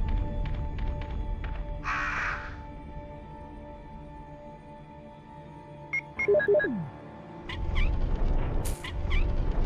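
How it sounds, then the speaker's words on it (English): Bird call from the Resident Evil video game, a few short cawing cries standing out over a low ambient game soundtrack with steady hum and occasional tonal effects. "I thought I heard a bird earlier."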